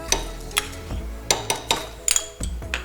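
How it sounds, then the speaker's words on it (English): Parmesan cheese and butter being stirred into a risotto, heard as a series of close spoon scrapes and light clinks against the pot at an uneven rhythm, with no talking. "So you're going to swirl that into the mix."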